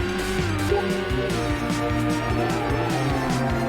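Racing car engine revving and shifting in Super Woden GP, a loud buzzing whine climbing and dropping through gears with faint tyre noise, continuous throughout without talk.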